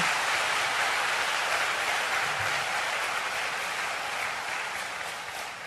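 A large congregation at Cheonbok Gung applauds the true mother during a Sacred Love service, with continuous, dense clapping that fades slightly toward the end and no voices.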